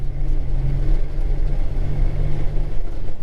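Harbor Blue highboy truck with a 360 engine idling or running steadily, a low continuous rumble with a faint hum, close and loud, no talking.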